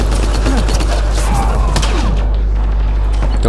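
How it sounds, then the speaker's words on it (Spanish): Gunfire from behind the player in a Mass Effect Andromeda multiplayer match: rapid bursts of shots and thuds over a constant low rumble of game ambience, with no talking. "¿Me están disparando de atrás?"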